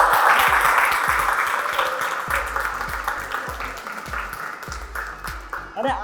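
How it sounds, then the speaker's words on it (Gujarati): A game-show audience applauds in a steady wash of clapping that starts loud and slowly fades, with a soft repeated low thumping underneath. "હવે તાળીઓ પાડો."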